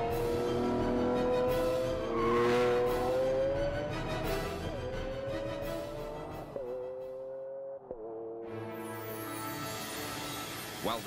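A Lamborghini Aventador V12 climbs through the revs in a series of gear shifts, each upshift dropping the pitch before the next rising scream; loud, close and alone without talk.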